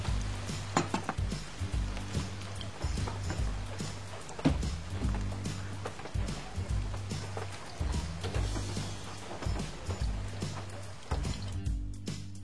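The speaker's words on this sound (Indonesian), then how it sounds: "Nah, sekarang tempenya aku mau goreng hingga matang." Tempeh sizzles as it fries in hot oil in a home kitchen, a steady crackle with repeated scraping and stirring knocks from a utensil against the pan; no one speaks.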